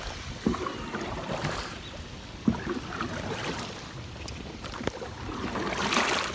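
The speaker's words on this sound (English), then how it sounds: "We are in a canoe." Canoe gliding on water, soft paddle swishes and dripping splashes with a few sharper knocks against the hull, gentle and close with a light breeze.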